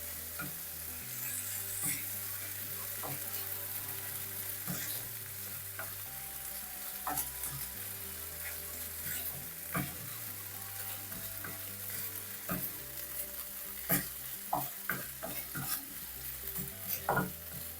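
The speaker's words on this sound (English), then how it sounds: "Mix and fry for a little while." Rice frying in a pan, stirred and mixed with a continuous close sizzle punctuated by repeated scraping strokes of a utensil, growing busier toward the end, no voices.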